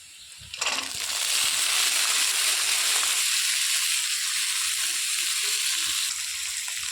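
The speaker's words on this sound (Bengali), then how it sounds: "এবার পেঁয়াজ লঙ্কার সাথে গাজর আর বিনসটাকে হালকা করে ভেজে নেব।" Carrots and beans hit hot oil with onion and chilli, bursting into a loud, steady sizzle that continues close up for several seconds before easing slightly; no talk.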